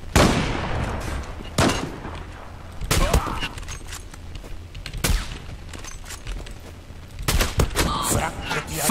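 A Bora 12 sniper rifle fired in the shooter game Zula, loud sharp cracks at spaced intervals with echoing tails, plus a rapid cluster of shots near the end.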